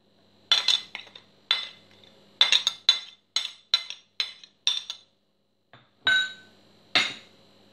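A metal utensil clinks against a bowl while turkey leg marinade with coriander is mixed: close, bright clinks in quick irregular bursts with brief pauses, no voices.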